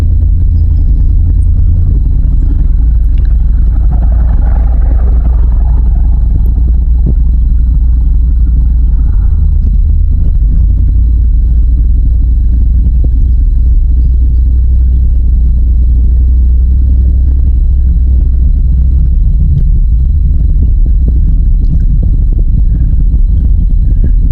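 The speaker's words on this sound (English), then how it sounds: "Truck's moving. I hope the log's moving." A truck engine labors steadily while towing a big log up a hill, a loud, close, continuous low rumble that holds with small surges and never lets up.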